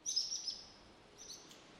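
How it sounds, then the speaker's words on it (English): Birds chirp faintly in the open air, a few quick high tweets in two short bursts with quiet background between them. "Just the birds here now."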